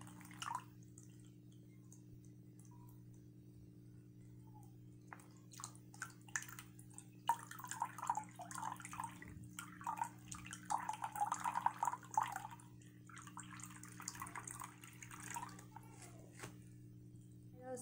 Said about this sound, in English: now I'm just going to put in some water from my tank back there to start getting him used to the water type that's in my tank